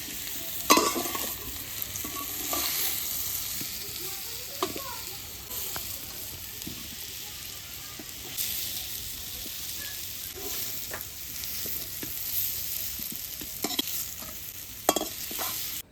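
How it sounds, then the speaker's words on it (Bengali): Taro pieces with turmeric being stirred and lightly fried in a wok, giving a steady close sizzle broken by repeated scraping stirs throughout, with no talking. "কচুটা কিন্তু বেশি ভাজবো না হালকার মধ্যে ভেজে রাখবো"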